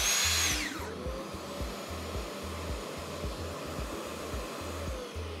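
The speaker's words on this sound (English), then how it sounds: "the extractor runs with the overrun time" A Festool dust extractor runs hooked up to a power tool, a steady rushing drone with a brief high whine at the start and a repeating low thumping pulse underneath, close and continuous.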